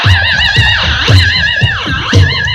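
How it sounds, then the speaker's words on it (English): A screaming horse neighs, giving several loud, shrill, wavering whinnies in quick succession, close and alone. "That's one screaming horse, I tell you that."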